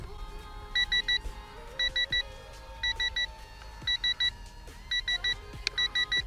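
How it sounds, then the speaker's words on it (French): A low-battery warning signal from an Eachine Mini Wing Dragon RC plane: six bursts of rapid, high-pitched triple beeps repeating roughly once a second over a steady motor hum, no talking. "ça c'est le signal pour la batterie"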